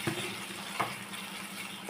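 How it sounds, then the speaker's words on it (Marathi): Masala gravy for Afghani egg masala sizzling and frying in oil in a pan, a steady crackling hiss with a couple of soft stirring scrapes, close and moderately loud. "हे बघा आता मसाला छान भाजत आलेला आहे, तेल सुटायला लागले"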